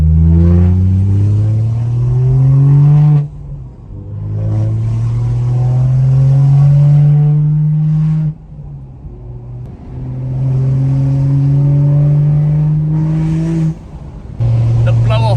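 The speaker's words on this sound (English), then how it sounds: "when you build enough boost, it actually does the turbo flutter, which just sounds unreal" A BMW N55 engine, tuned, revs hard in repeated pulls, each rising loud and near before cutting off sharply, with several bursts of acceleration and brief gaps between them where turbo flutter sounds.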